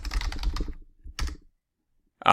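Rapid clicky keystrokes on a computer keyboard while entering an Excel function, a fast burst of typing, a short pause, another quick cluster, then silence before a final tap.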